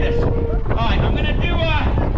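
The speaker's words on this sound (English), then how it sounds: "It's really windy to do stuff like this" Strong wind buffets the microphone at an outdoor pier in San Francisco, a steady loud roar through the whole stretch, with voices faintly in the background.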